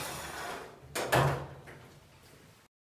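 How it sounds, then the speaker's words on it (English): Side and front doors of an Insinger commercial dishwasher in a dining facility kitchen being swung open, a metallic clunk and rattle with a short sliding scrape, loud and close, no talking. "Open the side and front doors."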